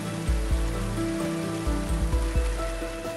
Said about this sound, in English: the system activates its self-cleaning cycle by opening the flushing valve